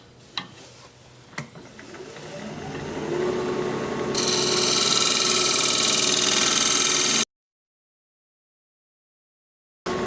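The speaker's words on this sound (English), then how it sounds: "So I'm just gonna take a parting tool and just go straight in here." Parting tool cutting straight into an oak root bowl on a wood lathe to form a tenon, a rising harsh scraping whine that grows loud and steady for several seconds, then cuts off abruptly into silence.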